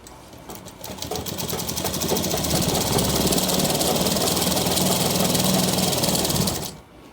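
A sewing machine runs at a fast, even pace for about six seconds, stitching a shirt cuff with a dense rattling whir before it stops abruptly.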